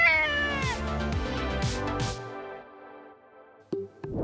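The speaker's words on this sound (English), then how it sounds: "And what do these cool cats have in common?" Cats meow several times in a row, loud, drawn-out and close up, trailing off into near silence before a short final mew.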